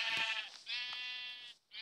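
In the Minecraft video game, sheep give two or three close, clear bleats in quick succession, each a quavering nasal call, with a brief pause before the last one.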